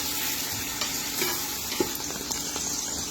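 Mushrooms sautéing in a pan for a budget white pasta sauce, a constant close sizzle with occasional soft stirring clicks and no voices.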